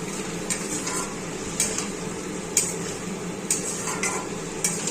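Medium tomatoes, half ripe, drop into a pan for a sour drumstick curry and get stirred, a low simmering hiss under sharp intermittent clinks of a spoon against the pan, close by.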